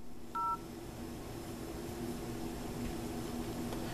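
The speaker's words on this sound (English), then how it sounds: "Here's phone you can go ahead and dial." A brief dial tone beep from the phone dialer of a HAMSWAN U18 smartwatch, a single short tone early on over a steady hiss of background noise.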